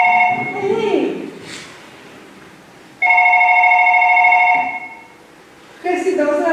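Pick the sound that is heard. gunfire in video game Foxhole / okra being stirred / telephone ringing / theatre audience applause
telephone ringing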